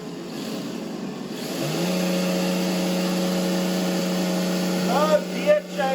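Traxxas TRX4 RC truck with a diesel-sounding motor holding a steady high whine at one speed with no gear changes, loud and close, rising to a strained near-redline pitch with a few brief surges toward the end.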